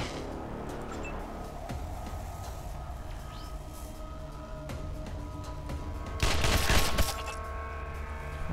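A short, loud burst of assault rifle fire in the video game Wasteland 2 breaks through a steady, rumbling background of game noise, then the rumble carries on alone.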